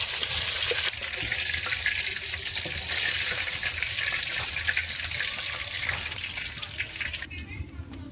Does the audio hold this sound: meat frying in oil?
yes